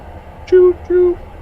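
Two short, steady low horn toots from a train in the survival game ExoTrain, set on a hostile exoplanet, sounding close and clear over a quiet background.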